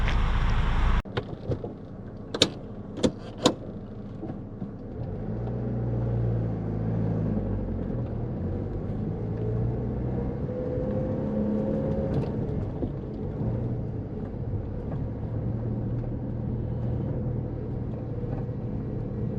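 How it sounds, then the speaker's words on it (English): A red 1989 Ford Escort LX on a short drive: a few sharp clicks at the start, then a steady low engine and road rumble from inside the cabin that rises and shifts gently as the car moves. "let's go for a short, uneventful drive in this wonderful little red Escort"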